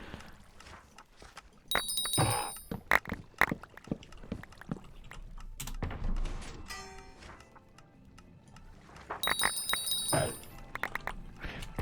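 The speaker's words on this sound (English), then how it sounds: "Also, that noise you're hearing, the bell," A chat-mention notification bell from a Minecraft mod rings in two bright, short bursts a few seconds apart, amid soft clicks and scattered in-game noises.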